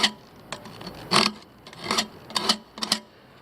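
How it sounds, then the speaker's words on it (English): Hard carbon steel hacksaw blade scraping out carved detail in a B.C. ash door, with a series of short raspy scrapes in irregular rhythm, close and fairly loud, no talk. "with something quite hard, like I said, a carbon steel hacksaw blade in this case, and just careful teasing out of all the"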